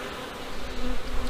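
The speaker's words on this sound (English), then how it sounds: "the bees are out doing cleansing flights and out chasing the nectar and pollen" Honey bees fly around a farm hive, a steady close buzzing drone that swells slightly louder toward the end, with no talking.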